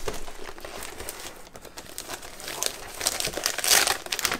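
Paper scraps being rummaged through at a scrapbooking worktable, crinkling and rustling in irregular bursts, close and moderately loud, with a brighter crumpling flurry near the end.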